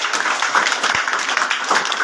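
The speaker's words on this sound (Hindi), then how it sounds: "ताली ऊंची है" Brisk, continuous clapping from a crowd at a Babasaheb Jayanti procession closing event, a dense patter of hands throughout with a few louder claps poking out.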